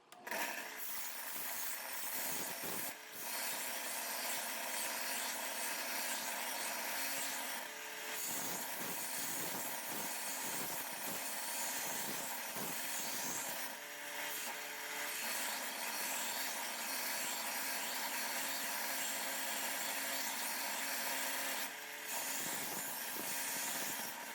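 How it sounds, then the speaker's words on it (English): Knife blade pressed against a 60 grit belt on a belt grinder to rough in the bevel on a chipped edge, giving a steady loud abrasive rasp that runs throughout, with short breaks as the blade is lifted and set back on. "now we're going to just put the rough bevel on with a 60 grit belt"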